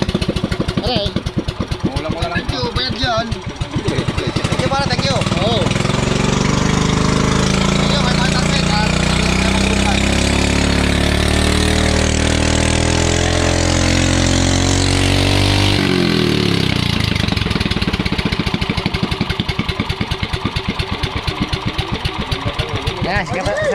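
A repaired boat engine running loud and close, a throbbing mechanical drone that rises in a revving surge midway, then settles back to a rapid, chugging idle with people talking over it.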